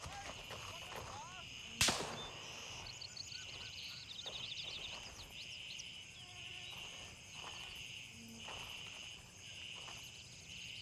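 Gunfire in Gray Zone Warfare: one sharp, fairly distant shot cracks out early, then quiet night ambience of chirping crickets and insects continues, with a faint voice murmuring in the background.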